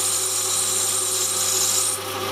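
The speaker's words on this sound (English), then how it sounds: "I've got a little bit of brass bar in the chuck, and I'll have a little bit of machining it" A mini lathe cuts a small brass bar held in its chuck, giving a loud, steady rasping hiss that runs without a break and eases slightly near the end, with no talking.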